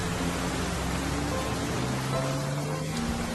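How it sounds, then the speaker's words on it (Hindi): Heavy rain falls steadily, a dense, even hiss that continues throughout with faint low tones beneath it. "बारिश काफी हो रही है"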